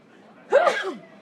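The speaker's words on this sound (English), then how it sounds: "Sorry, I had to sneeze there." One sudden, close sneeze bursting out of a quiet background, brief and forceful, with a slight trailing exhale.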